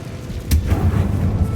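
A Confringo blast spell in Hogwarts Legacy lands as a single sharp booming burst, followed by a rumbling low tail that lingers close and loud.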